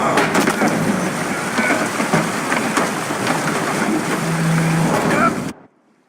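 Steady heavy rain and wind roar at sea during a storm in The Witcher 3, a dense continuous wash with low rumbling beneath, ending in sudden silence.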